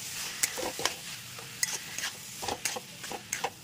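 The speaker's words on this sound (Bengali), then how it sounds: "মোচাটাকে আমি ভালো করে নেড়ে কষিয়ে নেব এই মশলাটার সঙ্গে" Boiled banana flower is stir-fried with spice paste in a pan, a soft steady sizzle broken by repeated scraping and stirring strokes, close and fairly quiet, with no talking.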